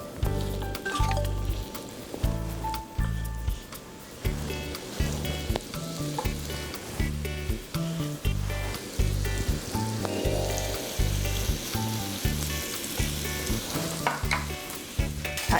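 A hamburg steak patty frying in an oiled pan, a steady crackling sizzle with bursts of spattering that carry on throughout at moderate loudness, with no talk.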